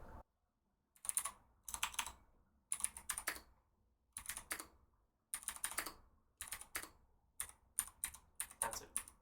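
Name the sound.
typing on Cherry MX Blue mechanical keyboard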